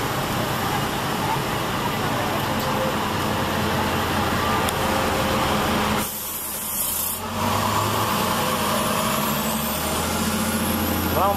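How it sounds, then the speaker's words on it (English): Busy street traffic in Acapulco, Mexico, with trucks and buses rumbling past at close range, a steady roar of engines and tires broken by a brief hiss like an air brake midway, with faint voices underneath. "Mucho traffic."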